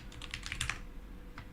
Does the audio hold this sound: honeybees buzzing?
no